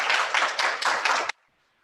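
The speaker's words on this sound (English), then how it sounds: "give yourselves a round of applause" Several participants in a virtual martial arts class clap over a call, a dense patter of hand claps lasting just over a second before cutting off abruptly.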